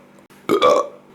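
A human voice imitates a burping toad with one loud, croaky belch of under half a second, preceded by a short, quieter breathy sound.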